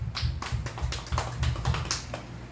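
A church congregation applauds during a Sunday daytime worship service, a steady run of sharp rhythmic hand claps, loud and close, lasting a couple of seconds with no talking.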